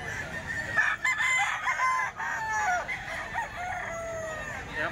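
A rooster offered for sale at a farm crows loudly and close, a drawn-out call with clucking fowl around it and little talk.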